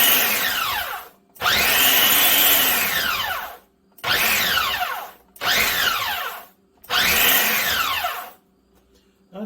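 Food processor grinding dried stevia leaves into powder, a loud whirring motor in four or five bursts separated by short silent pauses, each run rising and falling in pitch as the load churns.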